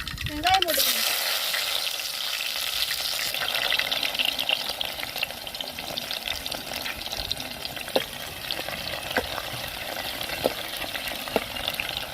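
Oil heats and fries in a hot pan on a stove while cooking a fish curry, a steady close sizzle with faint clinks and stirring noises throughout.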